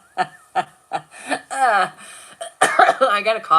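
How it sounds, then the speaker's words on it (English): Several short sharp coughs in a row, close and loud, followed by a throaty cough-like laugh. "I got a cough now developing."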